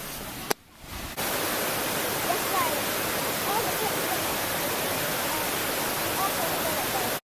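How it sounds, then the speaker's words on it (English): A small waterfall in Korea in cold weather rushes as a steady, dense roar of falling water that fills the scene at close range after a brief quieter moment at the start, with no voices over it. "let me just show you guys the small waterfall"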